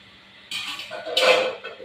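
A metal lid set onto a pot of simmering fish curry, a couple of quick clanks and a scraping rattle, close and fairly loud, with no voices.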